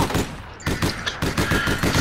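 Rapid gunfire in APB Reloaded, a team deathmatch shooter, cracks out loud and close in a dense fusillade of overlapping shots, pausing briefly before another burst continues.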